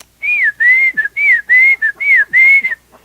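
A father's summoning whistle heard near and loud, given as a quick run of sliding whistled notes broken by short clipped chirps in a steady rhythm, with nothing else around it.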